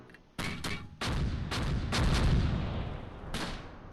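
Mortar fire in the Close Combat World War II strategy game, set around St. Mauvieu in June 1944. A cluster of heavy booming impacts hits in quick succession, each followed by a rolling rumble, with a last blast trailing off.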